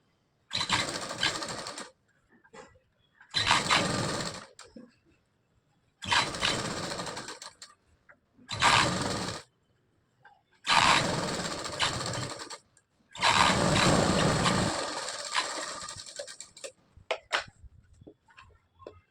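Sewing machine stitching along a blouse neckline, running in repeated bursts of steady whirring separated by short pauses, close and fairly loud, with no talk.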